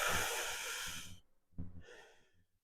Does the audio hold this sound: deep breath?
yes